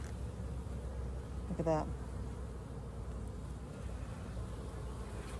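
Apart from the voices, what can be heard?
honeybees buzzing in an opened hive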